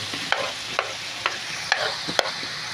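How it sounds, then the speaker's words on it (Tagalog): Onion and garlic stirred in a pan with a spatula, giving a handful of sharp scraping strokes at an uneven, unhurried rhythm over a soft, steady sizzle, close up with no talk. "Halu-haluin muna natin bago natin ilagay yung yan."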